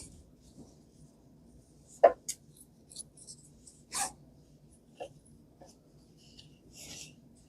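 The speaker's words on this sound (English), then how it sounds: "I'm going to cut the zipper and I can show you how to reattach it later." Scissors snip through a fabric zipper in a quiet sewing room while a zipper bag is made, with a few soft, scattered cuts and rustles separated by silence.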